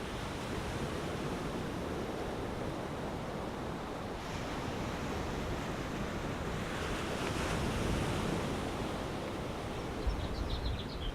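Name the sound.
ocean waves breaking on the shore at Malibu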